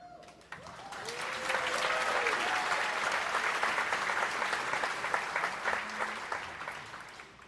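Commencement audience bursting into applause in a large venue, rising quickly and holding a thick, sustained roar of clapping for several seconds with a few faint voices and whistles mixed in.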